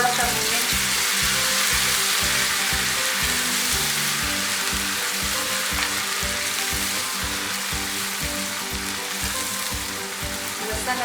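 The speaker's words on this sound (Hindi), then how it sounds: "अब हम इसमें लहसुन अदरक की पेस्ट शामिल करेंगे। इसको थोड़ा सा भूनें।" Garlic ginger paste frying with browned onions in a pan for chana dal, a loud, continuous sizzle with a rhythmic pattern of stirring strokes running steadily underneath, close and without speech.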